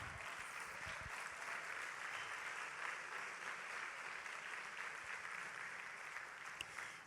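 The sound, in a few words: congregation applause in church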